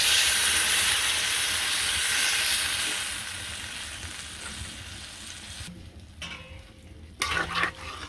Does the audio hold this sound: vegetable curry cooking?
yes